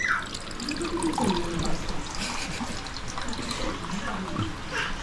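Water runs steadily from a home water dispenser, a continuous trickling pour that lasts throughout, with people talking over it nearby.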